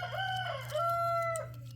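A rooster crows twice on a small backyard flock of hens with a dog nearby, two drawn-out tonal calls over a steady low hum, fairly close and clear.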